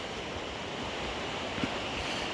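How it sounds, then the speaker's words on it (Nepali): River water flowing past a swing bridge in hilly waterfall country, a steady, broad rushing wash that holds even and continuous throughout, close and alone with no voices. "यहाँ बगिरहेछ खलङ्लो कति सङ्लो मिठो गरी बगिरहेछ"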